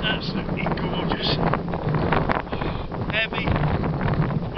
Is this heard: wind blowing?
yes